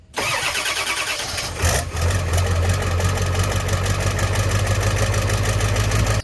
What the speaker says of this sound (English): we're going to start the truck up